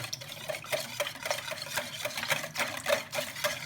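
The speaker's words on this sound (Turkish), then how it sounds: "biraz tuzumu ve iki tatlı kaşığı şekerimi güzelce çırpıyorum" Salt and sugar being whisked briskly in a bowl for bakery-style poğaça dough, a steady run of rhythmic scraping strokes close up with no talking.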